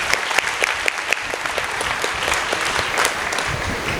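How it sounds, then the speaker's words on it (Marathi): An audience at a Warkari kirtan in Maharashtra claps in sustained applause, a dense, even patter of many hands that carries on throughout without pause. "जरा जोरात टाळी वाजली तर मलाही बळ येईल."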